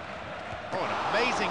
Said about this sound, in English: Crowd really cheering them on.